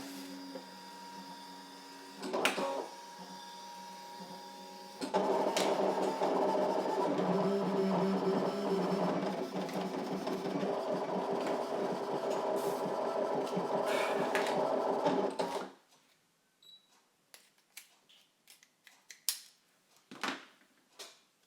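A ScanNCut cutting machine cuts thin card, running as a steady mechanical hum and whir for about ten seconds after a few handling clicks, then stopping and leaving faint taps and handling noises.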